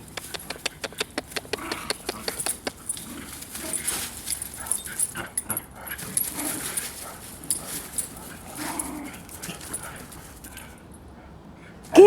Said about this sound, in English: Oh, that puppy wants to play.